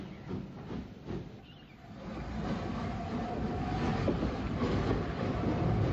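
A former South Eastern and Chatham Railway P-Class 0-6-0 tank engine shunts at a harbour, a steady rumbling chuff and hiss that swells and grows louder over several seconds, with no voices.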